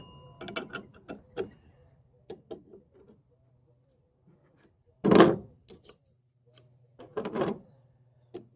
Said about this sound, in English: You just turn this top bolt.